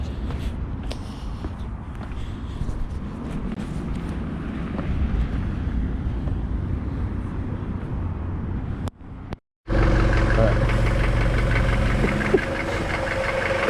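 A 1982 Mercedes diesel engine idles in below-zero cold with a steady, knocking clatter. After a short break, the engine returns louder and closer.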